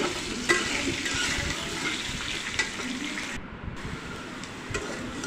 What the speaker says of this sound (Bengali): ভালোভাবে আলুটাকে ভেজে দিচ্ছি।